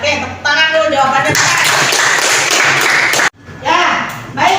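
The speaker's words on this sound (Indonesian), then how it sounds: "Oke, tepuk tangan dulu jawabannya." Classroom clapping breaks out among pupils, a brief dense burst of hands close by, framed by children's voices talking before and after.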